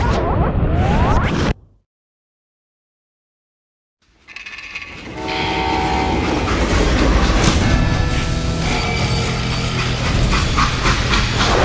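A steam-era train roars by in the Western shooter Call of Juarez: Gunslinger, a loud rushing clatter with whistle tones that drops to silence briefly, then swells back into steady rumbling rail noise.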